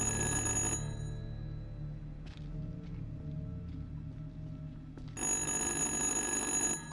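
Old telephone ringing in the Little Hope horror game, two loud bursts of bell ringing with a quiet pause of faint ambience between them.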